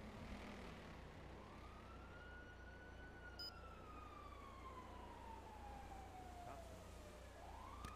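Police siren wailing in a video game, one long gliding tone sweeping up then slowly falling across the clip over a steady low engine drone, with a brief higher chirp partway through; no talk.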